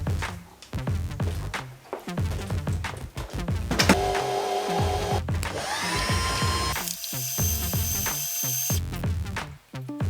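Sewing machine stitching the waistband of a skirt, a loud close mechanical whir in bursts with pauses and clunks between runs, its pitch rising and falling as the speed changes, no voices.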